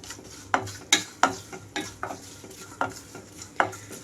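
Chana dal and asafoetida tempering in hot oil, with a low sizzle under repeated sharp scrapes and clinks of a spoon stirring in the pan, close and fairly loud.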